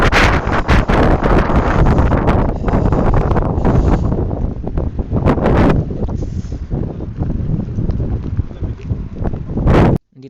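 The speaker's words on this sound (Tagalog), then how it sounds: "sobrang lakas ng hangin" Strong gusting wind batters the microphone outdoors beside a parked bike, producing loud continuous roaring buffets and rumbling bursts for about ten seconds before a sudden drop.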